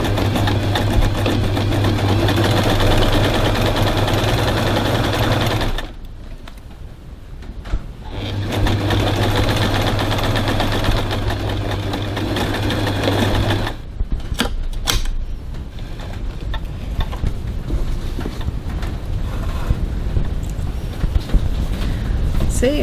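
A sewing machine stitches a crossbody bag seam at a 2.5 stitch length, running in a steady, loud whir for two long stretches with a brief pause between, then stopping, followed by quieter handling noises.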